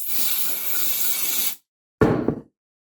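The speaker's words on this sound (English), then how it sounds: "And brake clean, parts cleaner, it evaporates pretty quickly." Aerosol brake and parts cleaner sprays onto motorcycle engine parts from a Harley-Davidson Softail, a steady loud hiss for about a second and a half, then a brief second burst after a pause.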